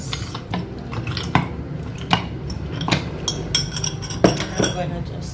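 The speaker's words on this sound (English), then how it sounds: "I'm gonna add my ice." Ice cubes dropped into a glass for an iced pumpkin pie latte make a scatter of small, sharp clinks and knocks at uneven intervals, with a voice talking over them.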